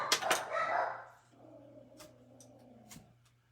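Several dogs bark in a quick burst, then growl and whimper more quietly with a few scattered yips, close by in a home over a steady low hum.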